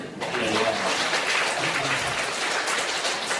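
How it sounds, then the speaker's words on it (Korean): Congregation clapping in a Baptist church during a Holy Week service, a continuous wash of applause at moderate level lasting a few seconds. "박수 한번 쳐요"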